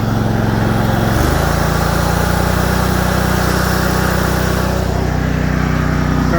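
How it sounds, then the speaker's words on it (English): A Cub Cadet 50-inch zero-turn lawn mower engine runs steadily, then revs up about a second in and holds a loud, close, smooth higher-pitched drone with no talking. "I'll rev it up for you."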